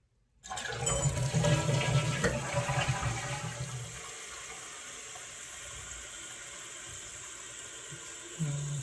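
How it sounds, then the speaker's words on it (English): A toilet tank refills through a newly installed fill valve, starting with a loud gush and rush of water, then settling into a steadier, quieter hissing flow that continues close by. "While this thing is filling up"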